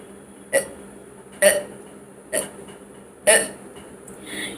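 Four sharp hiccups from a person, evenly spaced about a second apart, each a short abrupt voiced catch close to the listener against a quiet room.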